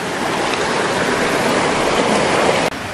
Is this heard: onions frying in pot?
no